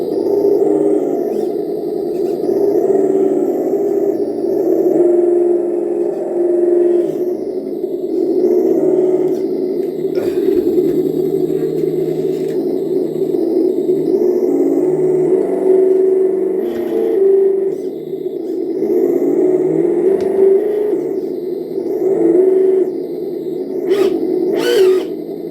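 An ESS dual sound simulator module on a Traxxas TRX-4 High Trail Bronco RC truck plays a steady synthetic car engine drone, loud and unbroken, with slight rev swells and whirring from the drivetrain.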